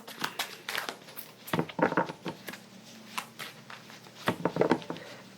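A deck of tarot cards being shuffled by hand, soft crinkly riffles and papery patters in close, quiet bursts with short pauses between.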